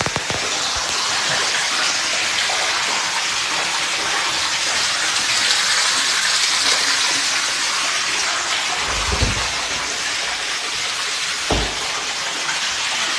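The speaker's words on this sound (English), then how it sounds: "a disconnect toilet supply line spewing water all over the place" Water gushes hard and continuously from a disconnected toilet supply line, a loud, steady broadband hiss and spray that fills the space throughout, with a couple of low thumps near the end.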